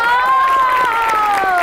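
Studio audience claps and cheers to welcome a guest onto a Pakistani TV comedy show, a loud, steady wash of applause with a bright sustained tone riding over it throughout.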